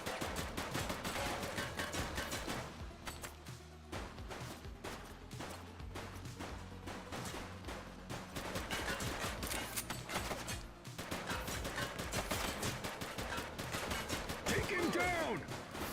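Loud, continuous gunfire in the police video game The Precinct: dense rapid bursts and overlapping shots pound without pause for the whole stretch, with indistinct voices buried in the din.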